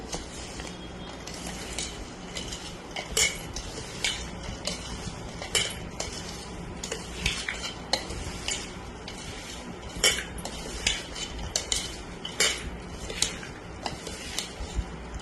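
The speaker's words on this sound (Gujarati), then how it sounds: "બરાબર હલાવીને સરસ મજાનો એને મિક્સ કરી દઈશું." A metal spoon stirs and scrapes through sweet raw mango pickle mixed with Kashmiri chili in a bowl, giving repeated close clinks and scrapes in an uneven rhythm, with no talking.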